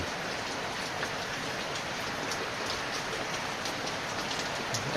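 Heavy morning rain falls in an even, continuous patter, with small drops ticking on nearby surfaces over a soft wash; no one speaks.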